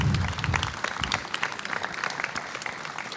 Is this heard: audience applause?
yes